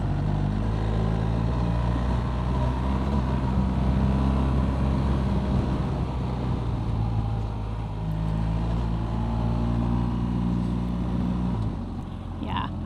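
Boxer-engine motorcycle riding a rutted gold rush road in New Zealand, a steady loud engine drone with road rumble continuing throughout, with no break.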